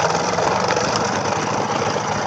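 A 40-year-old Kinetic Luna 50cc moped engine runs at a steady idle, a close, buzzing, even drone with a faint rattling vibration throughout.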